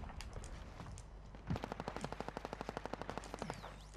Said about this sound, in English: There's a lot of shooting going on.